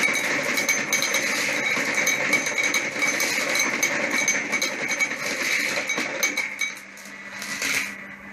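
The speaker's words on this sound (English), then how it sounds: "it's now going to dump all the coins in the machine, the entire float. It's pretty loud, as you can hear" An arcade coin pusher machine of the Deal or No Deal type dumps its entire coin float, a loud, continuous metallic clattering and jingling of cascading coins that briefly thins and then surges again near the end.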